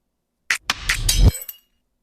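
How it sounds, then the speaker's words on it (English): A glass hit sound effect used as a fill in a music track: a short burst of sharp clinking, breaking-glass hits tumbling over about a second, then cutting off into silence. "probably this glass hit maybe"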